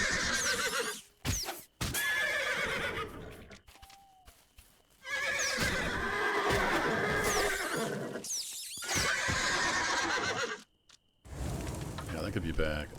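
A horse in the video game Ars Notoria whinnies and neighs repeatedly, close and loud, with snorts and hoof clatter between calls, broken by several abrupt silent gaps and a steady background hiss like rain.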